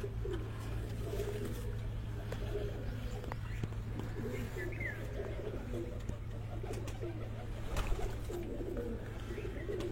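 Racing pigeons coo softly in the background over a low steady hum, with occasional faint clicks and rustles and people speaking nearby.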